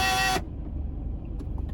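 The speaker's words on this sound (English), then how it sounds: "That's the sound of all the locks locking." A car's central door locks actuate all at once with a short, loud buzzing whir that cuts off abruptly, leaving a low engine hum and a few faint clicks.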